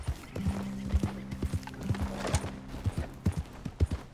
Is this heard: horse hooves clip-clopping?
yes